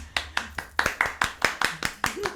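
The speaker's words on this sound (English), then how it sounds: "clap for me" Steady rhythmic clapping, sharp and evenly spaced like a small group clapping in time, with faint voices underneath.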